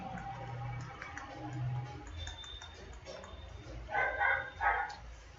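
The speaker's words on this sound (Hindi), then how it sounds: "यार, ये कौन सा कुत्ता है साला," Dog barking at a distance outside, a few faint yips rising over room noise and keyboard-like tapping, with a voice talking indoors.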